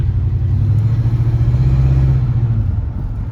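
A 1968 Ford LTD engine with a freshly rebuilt Motorcraft/Autolite 2100 carburetor idles smoothly with a steady, close, deep rumble and no other sounds.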